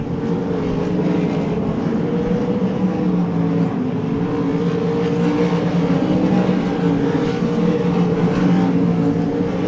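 Dirt track race cars circle Devils Bowl Speedway, a continuous loud roar of several engines droning and rising together at steady volume, with no voices over it.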